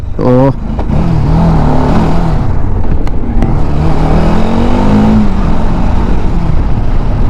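A motorcycle engine revs while riding, a loud, sustained drone with rising and falling pitch, heavy wind rumble throughout, and a voice briefly at the start.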